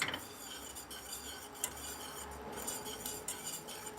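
A whisk beats orange cheesecake cream in a bowl, giving quiet rapid metallic scraping and clinking against the sides, steady and close with no talk.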